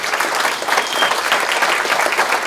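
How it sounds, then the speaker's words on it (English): Audience applause at a toast-or-roast event, a steady, dense round of clapping filling the room for a couple of seconds with no voices over it. "Let's give him a round of applause."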